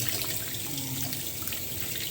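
Dishes washed under a running kitchen tap: a steady, close rush of water into a sink with faint splashing, no talk.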